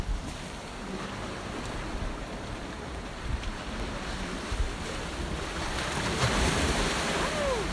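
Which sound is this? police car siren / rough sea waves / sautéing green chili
rough sea waves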